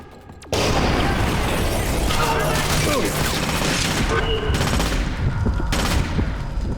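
After a brief quieter moment, loud combat noise erupts in the game Splinter Cell: Conviction: a sudden grenade blast followed by sustained scattered gunfire and rumbling, with shouted voices mixed into the chaos.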